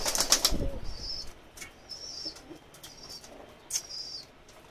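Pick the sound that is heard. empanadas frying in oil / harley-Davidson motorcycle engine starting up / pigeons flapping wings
pigeons flapping wings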